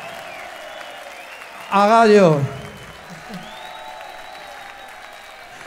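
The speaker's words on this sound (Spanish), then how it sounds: "Por favor, un aplauso muy grande a Rojo" Concert audience applauding at a live rock show, a steady crowd wash of clapping and cheering under a shouting voice on the PA.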